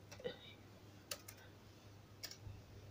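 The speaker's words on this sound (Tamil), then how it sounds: "நம்ம என்ன ப்ராஜெக்ட் பண்ணுறோமோ அதோடய நேமை நம்ம இங்கே டைப் பண்ணணும்" Someone types a project name on a computer keyboard while setting up a Delta HMI program, giving a few soft, scattered key clicks in a quiet room, faint and close.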